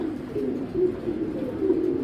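Racer pigeons coo in a steady low murmur, the soft throaty calls overlapping continuously at close range with no talk.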